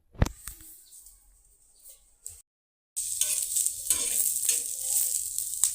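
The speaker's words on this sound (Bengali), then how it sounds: "আর পেঁয়াজ রসুন দিয়ে ভাজতেছি" Green chili frying with onion and garlic in a pan: a sharp clatter, a short lull, then a steady, fairly loud sizzle that carries on to the end.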